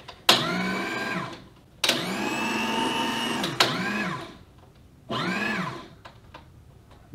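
A small electric paper shredder that can also destroy discs and plastic cards switches on and off in four bursts of whining motor noise, each starting abruptly and running a second or two, close and loud with no talk.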